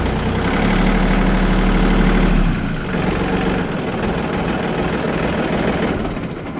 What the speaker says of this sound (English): the engine kind of surges a little bit, kind of lurches, low, low, low.